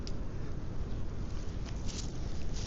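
Steady wind rushes and buffets against the microphone, a continuous low roar with no voices.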